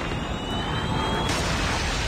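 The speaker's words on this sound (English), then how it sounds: "Friendly Predator missile inbound." Predator missile strike in a Call of Duty Ground Wars match on the Crossroads map: a loud, steady jet-like roar that rushes in with a sudden shift partway through, dense and continuous with no talk.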